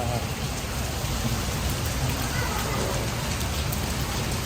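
Heavy rain drums hard and constantly on surfaces, a thick, loud downpour filling every moment.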